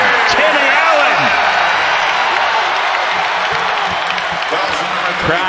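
Packed arena crowd roaring at a Baylor versus Texas college basketball game in the Moody Center, a loud continuous cheer with sneaker squeaks and ball bounces scattered through it.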